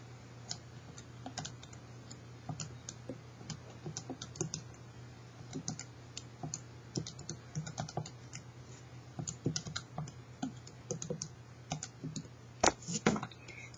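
Keys on a computer keyboard click in quick, irregular bursts of typing, close and fairly quiet over a steady low hum.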